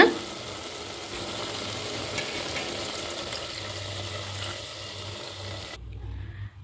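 A pot of coconut milk for Tirunelveli-style sothi curry simmers with a steady bubbling hiss that stays even throughout, then cuts off just before the end.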